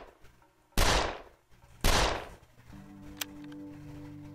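Gunfire in the video game 13 Days in Hell: two loud, sharp shots about a second apart, each with a decaying tail, followed by a faint click and a low sustained hum.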